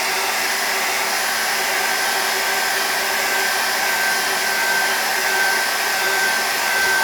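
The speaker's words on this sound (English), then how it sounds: "I'm going to dry it again." A hair dryer blows steadily and loudly over an acrylic landscape painting, a constant whooshing hum with a thin whine that runs unbroken throughout, with no talking.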